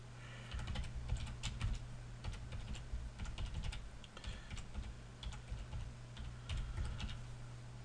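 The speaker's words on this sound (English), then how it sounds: "We'll type in the email address." Rapid, irregular clacking of keys on a computer keyboard as an email address is typed, close and steady throughout over a low constant hum, with no talking.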